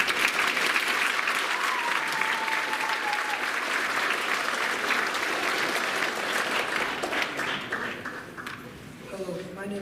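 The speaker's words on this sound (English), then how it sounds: "Let's give them all a big round of applause." Audience applause at a school band spring concert, a dense sustained roar of clapping that holds for most of the clip before tapering off, with some talk underneath.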